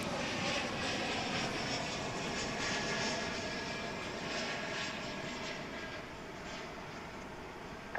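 American Airlines jet airliner arriving at DFW International Airport, a steady broad engine roar that holds loud throughout and eases slightly toward the end, with no talking.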